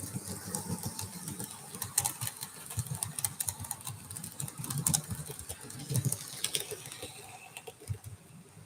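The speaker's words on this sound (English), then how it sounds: "you can hear the trains" Model trains running on a DC model railway layout, a steady busy rattle of small wheels and motors with irregular clicks and clatters throughout, moderately close and continuous with no talk.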